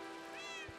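A cat meows once in Minecraft, a short, fairly faint tonal call that rises and falls over a steady hum.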